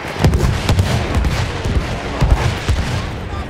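Artillery fire in a video game battle, a dense stretch of overlapping booms and blasts, some close and sharp, others distant, with no clear pauses.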